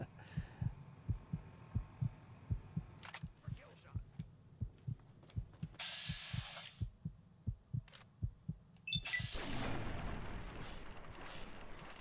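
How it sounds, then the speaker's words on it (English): Heartbeat warning from Fallout 3 signalling low health, a steady run of deep low thumps throbbing through the whole stretch, with brief higher game effects and a rising noisy rush near the end. "I have to listen to this dang heartbeat."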